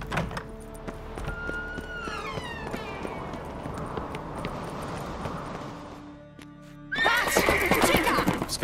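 A horse in the video game The Witcher 3 neighs loudly and its hooves clip-clop steadily; after a short lull a sharper, closer whinny breaks out at the end.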